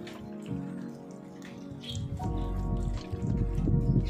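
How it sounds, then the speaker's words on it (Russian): Rain dripping outdoors on a wet spring day, soft irregular drops tapping nearby over low rumbling background noise, with no voices. "Капает. Воробушки мокрые."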